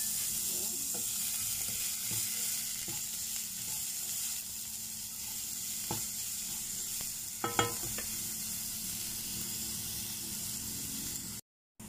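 Chopped onion frying in a pan for spicy corned beef, a steady close sizzle with occasional scrapes and clinks as a utensil stirs it, continuous throughout before cutting off at the very end.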